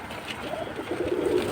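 Gola kosha, crooked-neck pigeons coo softly at close range, a low murmuring warble that swells slightly toward the end, with no talk over it.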